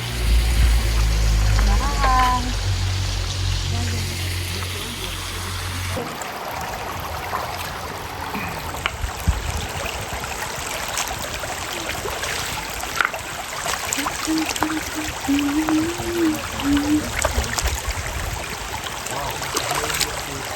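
Steady broadband rush of a waterfall in a forest setting, continuous and moderately loud, with a brief low rumble early on and faint background sounds throughout.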